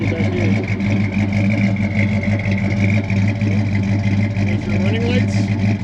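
A numbers-matching 1969 Plymouth Hemi Road Runner's 426 Hemi V8 rumbles at a loud, steady idle nearby while someone talks over it.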